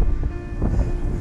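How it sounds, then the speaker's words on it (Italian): Strong wind at about 2000 metres on a mountain pass during a cycling tour, a loud buffeting rumble blowing across the microphone throughout. "C'è un gran vento"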